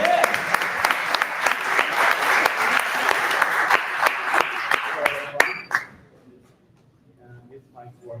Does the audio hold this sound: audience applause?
yes